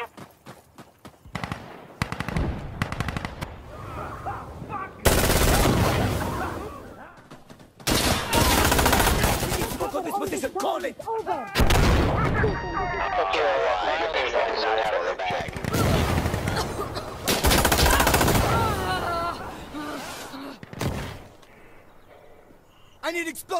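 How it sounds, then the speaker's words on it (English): Artillery barrage and heavy gunfire in the video game Insurgency: Sandstorm, with long loud stretches of booming explosions and rattling automatic fire broken by short lulls, while voices talk over the battle. "We want smoke artillery fired here, okay?"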